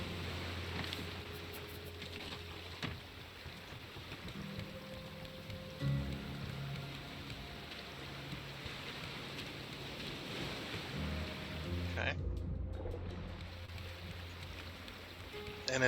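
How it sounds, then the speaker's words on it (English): Rain falls in the survival game Raft as a continuous broad wash of sound, with low game tones, a rumble of thunder, and a short spoken word partway through. "And it is raining again"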